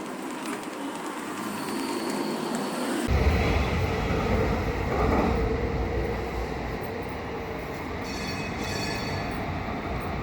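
A San Francisco Muni Metro light rail train rumbles and hums steadily, growing louder as it arrives, with faint high squeals and a brief chime near the end.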